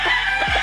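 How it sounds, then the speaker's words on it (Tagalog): A six-month-old stag rooster crowing, a brief, loud, close burst cut short within a fraction of a second. "Ayan po ang ating 6 months na stag"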